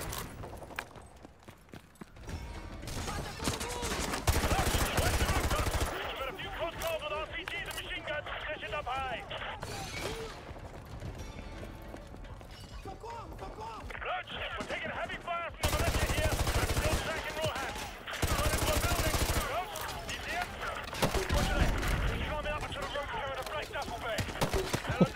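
Gunfire in Call of Duty Modern Warfare 2, repeated loud shots and bursts of automatic fire across a busy combat mix, with talking voices throughout.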